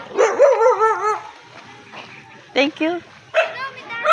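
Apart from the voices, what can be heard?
fierce dog barking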